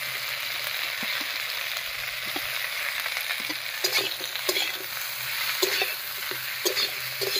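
Boiled cauliflower stalks and beans frying in a pan, a continuous close sizzle with scattered spatters and occasional stirring scrapes, no voices.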